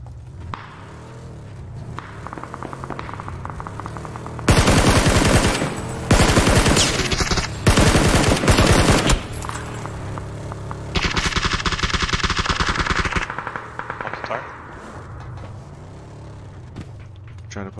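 PUBG gunfire on Miramar: distant shots pop at first, then long, loud bursts of automatic fire hammer at close range in several waves before fading back to scattered, quieter shooting.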